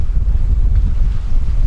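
Strong wind roars and buffets across a microphone aboard a sailboat under a reefed main with the jib at 90%, a loud, low rumbling rush that never lets up, with no voices.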